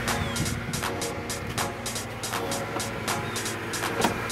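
A 1990s Japanese car's engine idling just after a distributor ignition coil change, a steady low hum broken by regular, evenly spaced ticking pulses, fairly close with no talk.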